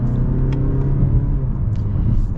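A 2022 Mazda 3 Premium hatchback with the base engine and 6-speed automatic pulls hard from inside the cabin, a steady loud low engine drone rising slightly as it accelerates, with no talk over it.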